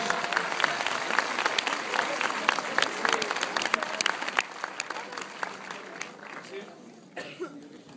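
Crowd applause at a film premiere of Supercondriaque in Toulouse, dense clapping with scattered louder claps and a cough or two, tapering off toward the end as voices emerge.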